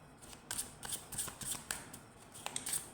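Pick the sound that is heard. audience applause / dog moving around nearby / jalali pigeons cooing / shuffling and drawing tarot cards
shuffling and drawing tarot cards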